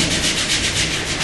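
Surgical scrub brush rubbed over a wet forearm during a hand scrub, a short burst of rhythmic, close bristly scratching strokes with no talk.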